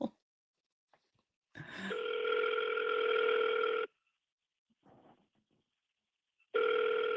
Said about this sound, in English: We're gonna double dial, obviously, right?